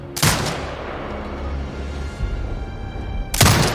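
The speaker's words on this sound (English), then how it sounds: "Exit binocular mode and command the turret to fire." Gunfire from a sniper turret in the video game Sniper Ghost Warrior Contracts: one sharp loud shot at the start, a steady low hum in between, then a second loud report near the end.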